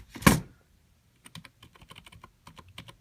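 An old, basic, skinny keyboard with multimedia shortcut keys being typed on: an irregular patter of light plastic key clicks after a single louder thump, close up and alone.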